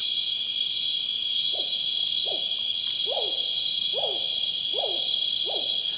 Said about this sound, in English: Sometimes I hear their liquid calls and their song, per-wee-oo.